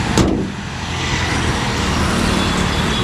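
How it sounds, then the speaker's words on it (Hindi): The bonnet of a Skoda Kylaq Signature MT slams shut in one sharp thud near the start. A steady, muffled hum of vehicle and road noise follows. "ये बंद कर देता हूँ बोनट"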